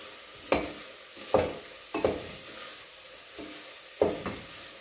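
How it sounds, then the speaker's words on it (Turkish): Spoon stirring grated onion and tomato into simmering meat in a pan, with five or six sharp scraping clinks at irregular intervals over a soft sizzle, close and without talk. "Şimdi bunu da karıştıralım."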